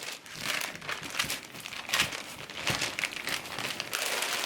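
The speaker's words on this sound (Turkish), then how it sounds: "Üstüne diğer yağlı kağıdı yerleştiriyorum." Sheet of baking paper crinkling and rustling as it is laid over rolled dough for an apple pie, a steady close crackle with brief louder crumples, no talking.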